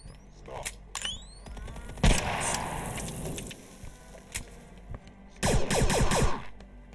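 Two heavy railgun shots in the VR shooter Compound, each a sharp, loud burst with a ringing tail, separated by a few seconds of quieter mechanical clicks and game ambience.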